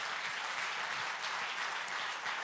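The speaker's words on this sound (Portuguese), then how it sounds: "Vamos aplaudir o nome do Senhor?" A church congregation applauds during a worship service. The clapping is brief and dense, a continuous wash of many hands at a moderate, steady level.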